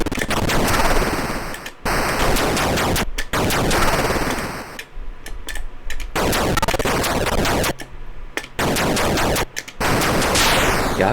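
Atari 2600 Air Raid from 1983 fires shots in loud, harsh, rapid bursts of electronic noise, separated by brief silences and quieter bleeps.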